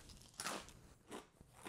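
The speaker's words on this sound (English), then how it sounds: "Hear that crunch." Crunchy corn nuggets with ranch seasoning being bitten and chewed close to the mic, a few distinct crunchy bursts spread over a couple of seconds, fairly quiet, with no talking.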